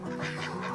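Ducks kept as pets on a farm quack nearby in a quick, nasal, continuous burst, loud and close with no voices over it.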